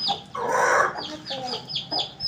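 Aseel hen being caught: a burst of loud, agitated squawking and clucking up close, followed by several shorter sharp clucks.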